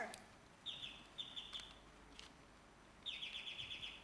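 Short chirping bird calls from a sound effect, a few bright bursts repeated in quick trills, fairly clear over a faint background hiss.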